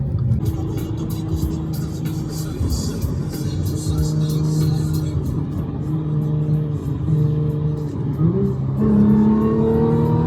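An Audi S4 engine hums along with a rising, high-pitched supercharger whine, swelling as the car speeds up, close and steady.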